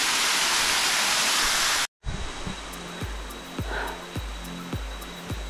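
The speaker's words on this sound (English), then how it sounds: "The number 2 waterfall" A steady, loud rush of falling water fills a jungle trail in Khao Lak, then cuts to softer water noise and footsteps thumping along close by.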